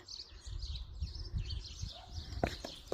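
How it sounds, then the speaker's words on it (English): Birds chirp and sing outside a house in Cupar, a run of faint, high, distant calls over a low background rumble, with a few sharper knocks near the end. "the whole way through this you've just had birds in the background as well, so lovely and peaceful"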